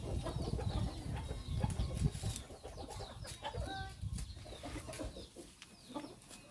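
Crossbred hens and their chicks cluck and cheep in an evening farmyard, a steady busy chorus of short calls close by with thin peeps scattered over soft lower clucking.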